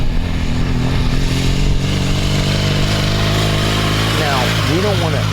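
Large adventure motorcycle accelerating through sand, a loud, close engine with a deep steady growl that rises in pitch as the throttle opens near the end.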